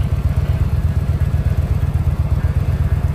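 A motorcycle engine idles close by with a steady, lumpy low-frequency throb and faint clatter, running continuously throughout with no talk over it.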